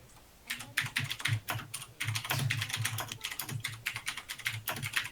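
Rapid, loud clacking of a mechanical keyboard typed right beside a microphone, dense irregular bursts of keystrokes continuing throughout with only brief pauses.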